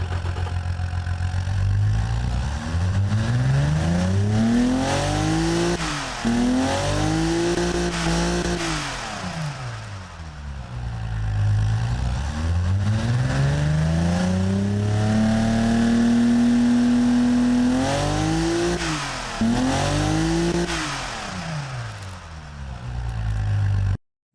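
Sports car engine in the Automation and BeamNG driving games revs repeatedly, rising and falling in pitch in several long sweeps with a steady idle between, loud and alone with no talk.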